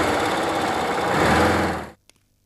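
A car engine runs steadily and loud for about two seconds as the car pulls away, then cuts off abruptly into near silence with a faint click.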